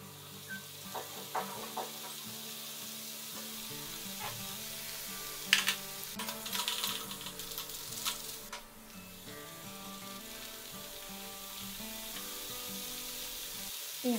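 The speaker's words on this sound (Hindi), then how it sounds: "सारी मटरियाँ ऐसे ही फ्राई कर लेनी है।" Wheat-flour mathri snacks deep-frying in hot oil, a continuous bubbling sizzle with a brief louder crackling surge midway, close and unbroken, with no voices.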